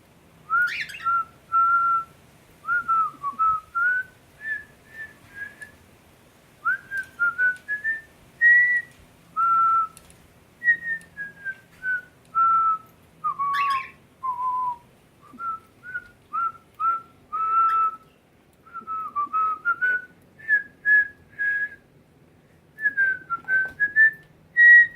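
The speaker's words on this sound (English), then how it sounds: "Want me to whistle for you?" A person whistles a melodic tune to pet cockatiels, clear and close, in a long run of sustained and sliding notes broken by short breaths, with no talking.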